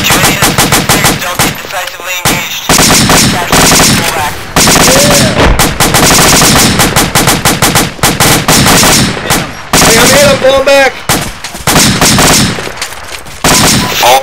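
Heavy automatic gunfire rattles almost nonstop through an Arma 2 firefight, loud bursts from several weapons overlapping with brief pauses between, plus occasional faint radio-like tones.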